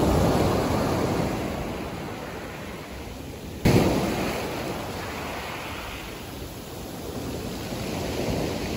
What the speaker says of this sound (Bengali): প্রচন্ড ঢেউ।